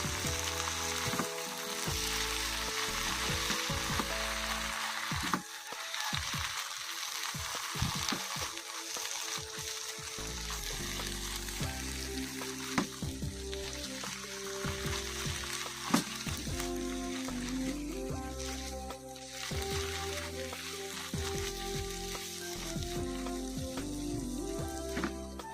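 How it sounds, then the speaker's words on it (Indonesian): Mustard greens stir-fried with oyster sauce in a pan give a constant sizzle and crackle, with scraping and clinks of stirring throughout and a brief quieter patch partway through. "masukkan daun sawinya. Kalau daun sawi udah masuk, aduk-aduk sebentar aja ya, sampai dia layu aja dan berubah warna."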